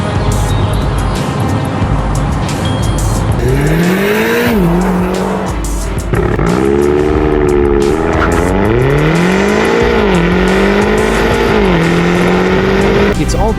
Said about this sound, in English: another car barrels in like it's auditioning for an action movie